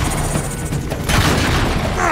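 Video game gunfire in Uncharted 3: a dense, continuous barrage of loud booming shots with no clear gaps, steady throughout and layered under the game's soundtrack.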